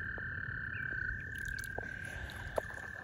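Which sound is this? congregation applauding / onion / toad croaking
toad croaking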